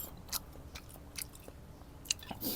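Quiet, close chewing and biting of a Thai omelette with crunchy fish balls eaten with hot rice, soft crunches spaced through a short stretch with no talking.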